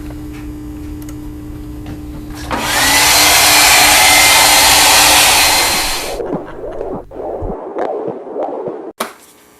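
A hair dryer drying a painting switches on for a few seconds of loud, close, breathy roar, then shuts off and gives way to quieter rustling and small taps.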